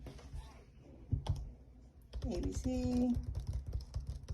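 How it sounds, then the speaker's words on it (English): Fingers tapping on a 10.2-inch iPad screen fitted in a protective case, a few soft close clicks and taps, followed by a voice speaking over them. "So as you can see, I can type everything properly."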